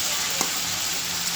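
Puti fish fry in a wok with cumin seeds as a chorchori is cooked, giving a steady, close, loud sizzle that runs throughout with one faint clink.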